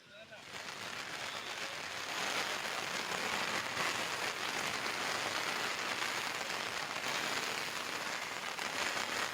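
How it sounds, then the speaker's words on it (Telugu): Relentless heavy rain in Khammam district pours down as a dense, even hiss of drops hitting surfaces, building in the first second and then holding steady, fairly quiet, with no voices. "ఎడతెరిపి లేకుండా భారీ వర్షాలు కురుస్తున్నాయి"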